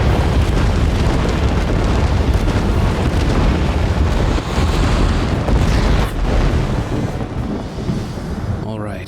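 Loud, dense rumbling roar of a Daedric anchor being destroyed during an invasion in Elder Scrolls Online, a sustained explosive blast that rolls on for several seconds before thinning out near the end.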